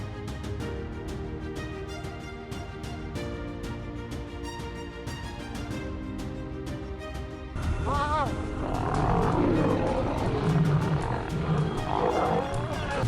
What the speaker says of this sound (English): Territorial disputes between lions are not uncommon.